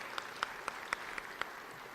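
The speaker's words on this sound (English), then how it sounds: "So a round of applause for all those fine folks." Scattered, fairly faint handclaps from a small crowd at a Rooster Booster community breakfast, honoring attending officials such as school board members; a handful of separate claps spaced across the moment rather than a full ovation.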